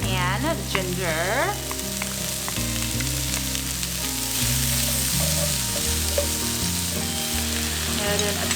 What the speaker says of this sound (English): And then I'll add in my garlic and ginger.